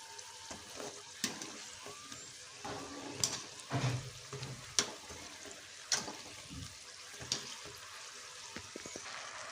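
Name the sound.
egg potato stuffed kajjikaya frying in oil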